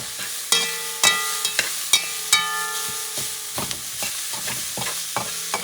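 Garlic fries in a pan for a Puerto Rican asopao de pollo y cerdo, a soft sizzle under repeated sharp metallic clinks and scrapes of a utensil stirring against the pan, roughly one strike per second, close and clear without talk.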